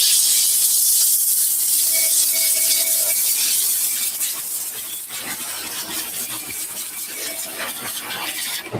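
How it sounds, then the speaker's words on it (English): A handheld steamer hisses steadily as it steams suede shoes, a continuous close breathy rush that eases slightly partway through and carries on without talk. "We steam this."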